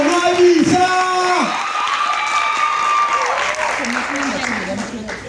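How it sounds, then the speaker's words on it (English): Event audience clapping and cheering at a gender-based violence training event, sustained applause with loud whoops and sung shouts rising over it, close and lively throughout. "When I say put your hands together, you clap."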